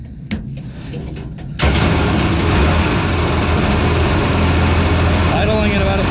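A mini jet boat engine starts with a sudden jump in level and then idles at a low, steady rumble around 1,000 RPM, close and loud, with a voice talking over it.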